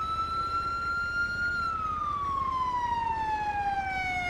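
Ambulance siren in the video game GTA V with the LSPDFR mod, a single sustained electronic wail that holds steady, then slowly glides downward as if passing by, over a low rumbling engine bed.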